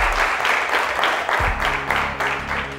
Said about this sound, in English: Let's give them a huge round of applause, ladies and gentlemen.